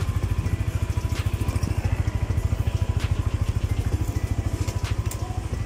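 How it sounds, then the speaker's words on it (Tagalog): A motorcycle engine running steadily during a rear wheel test, its rapid, even low-pitched putter loud and close, with faint clicks and ticks over the top and no talking. "Tingnan natin ang gulong ni boss sa kanyang motor kung gumagana ba."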